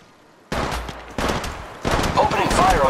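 Gunfire from the mobile video game Apex Legends Mobile: three loud, close bursts of rapid shots starting one after another, with a brief voice near the end.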